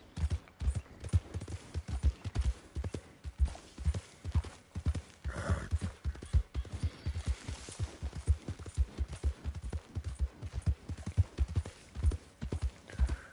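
Horse hooves clip-clop steadily at a riding pace in Red Dead Redemption 2, a continuous rhythmic stream of hoof beats close by, with a brief whinny-like burst partway through and no talking.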